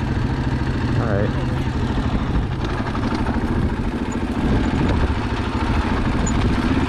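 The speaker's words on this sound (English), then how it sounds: "Engine braking, fluttering the front." A motorcycle engine brakes on a deeply rutted trail, its rumble and clatter steady up close while the rider talks over it.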